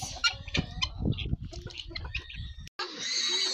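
A hen clucks repeatedly in short, uneven bursts close by, with a few louder squawks and some rustling between them.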